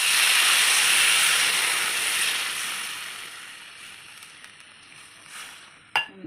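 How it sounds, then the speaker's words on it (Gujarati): Water poured into a hot pan for a stuffed ridge gourd curry hisses into loud, steady sizzling steam that gradually fades, ending with a brief utensil clink near the end; no one speaks. "આપણે પાણી નાખી દઈશું।"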